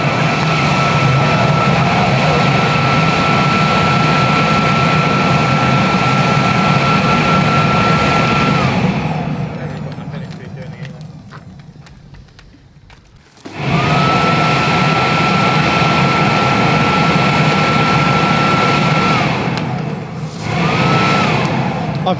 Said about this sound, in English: the turbo burn barrel has gone from turbo burn barrel to Turbo oil burner